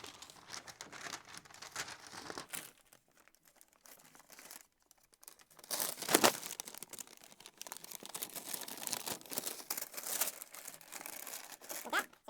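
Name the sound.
crumpling material up by hand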